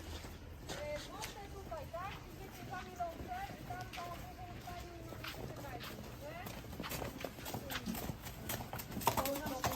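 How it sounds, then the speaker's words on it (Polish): Horses are led from a paddock to the stable at a riding camp, their hooves clip-clopping steadily at a moderate distance while people talk over them and a horse whinnies now and then. "Dziewczyny właśnie sprowadzają koniki z padoku do stajni."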